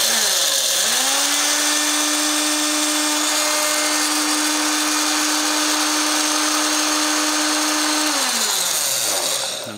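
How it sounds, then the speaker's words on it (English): A grinder whirs steadily for about eight seconds as it pulverizes dried chilies into chili powder, loud and close, with a sharp spin-up at the start and a winding down near the end. "We could grind that a bit more, see if we can get more of a chili"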